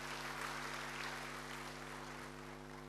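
A church congregation applauds during a sermon, a faint, steady wash of clapping heard from a distance over a constant low electrical hum.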